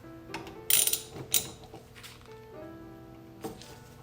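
Socket wrench with a 5 mm socket ratcheting on a front brake caliper bolt of a Yamaha FJR 1300 motorcycle, giving a few close, sharp bursts of clicking between quieter handling noise, with no talk.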